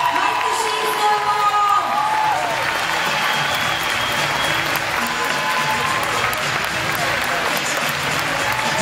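A crowd claps steadily in sustained applause, with some cheering and voices mixed in.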